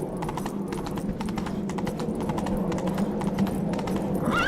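The horse Roach gallops in The Witcher 3, rapid rhythmic hoofbeats clip-clopping steadily and close, carrying on throughout.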